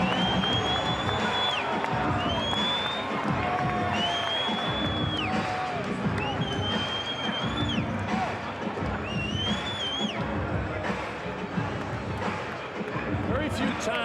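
An arena crowd at a boxing match cheers and roars continuously during the fighter introductions, with whoops and whistles rising above the din and a commentator talking over the noise.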